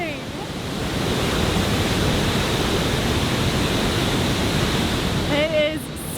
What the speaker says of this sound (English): Look at the water! It is just